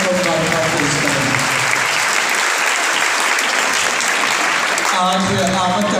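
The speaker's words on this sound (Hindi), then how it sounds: "एक बार फिर भरपूर तालियां बजाकर खुशी का इजहार करें और इनको मुबारकबाद पेश करें" A church congregation at a Sunday Holy Mass in Advent claps heartily, a loud continuous burst of applause with a voice speaking over it near the start and again near the end.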